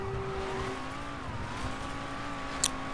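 A car in Mafia III with its tires slipping on the road: a steady engine drone with a long, wavering tire squeal running throughout, plus a brief sharp click near the end.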